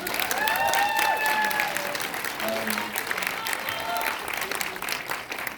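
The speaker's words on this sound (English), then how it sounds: "Round of applause for Jemima, everyone." Audience applause at a film introduction event, with steady clapping from a crowd that swells at first and then slowly thins, with some voices mixed in.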